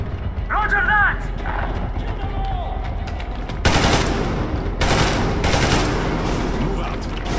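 Covering gunfire in the shooter Metro Exodus, loud rapid automatic bursts breaking out in the second half over a rumbling, busy backdrop, with voices and a whistling tone earlier on.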